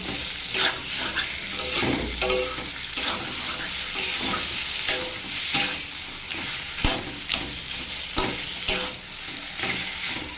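Taro leaves, a vegetarian kochu shak, stir-fried in a pan, with a steady sizzle broken by frequent scraping, stirring strokes of a spatula, close and fairly loud, with no talking.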